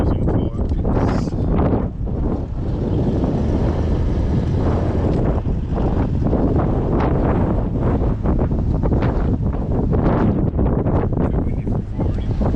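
Strong wind at a campground buffets the microphone in loud, continuous gusts, roaring steadily throughout with brief surges.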